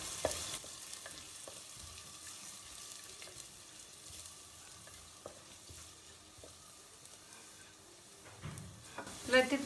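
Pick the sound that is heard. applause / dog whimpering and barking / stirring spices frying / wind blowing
stirring spices frying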